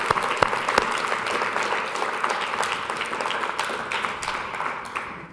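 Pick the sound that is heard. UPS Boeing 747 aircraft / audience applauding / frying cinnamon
audience applauding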